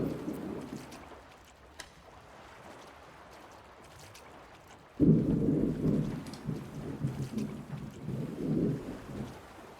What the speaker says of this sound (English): It's the exciting part of the thunderstorm seems to be over.